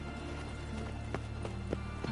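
Horse hooves clop at a steady run in The Witcher 3 video game, the faint rhythmic hoofbeats spaced evenly over a constant low background hum.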